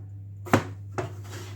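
Two crisp knife chops, one louder than the other, as vegetables are cut into small cubes on a board, close and with no talk.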